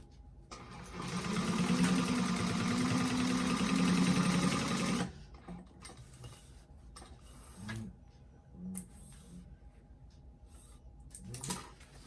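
A sewing machine runs in a fast, steady buzzing stitch for a few seconds, then stops, followed by scattered clicks and small handling noises.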